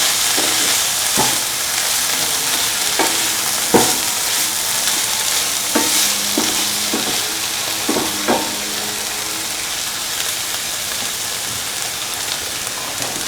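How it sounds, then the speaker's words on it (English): Red spinach and cottage cheese sizzling as they sauté in a pan, a steady crackling fry with repeated scraping strokes and taps of a utensil stirring the food. "Keep on sauteing."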